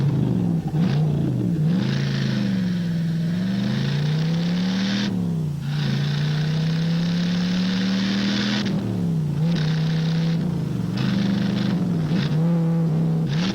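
A Chevy Camaro engine revs loudly and close, its deep rumble climbing and falling through repeated throttle blips over about fourteen seconds, with no voices.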